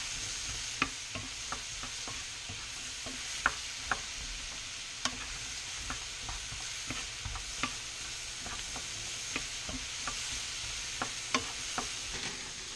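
Tofu and diced mushrooms stirred in a hot pan, a steady sizzle running under repeated sharp clicks of a utensil against the pan at an uneven pace, close up with no talking.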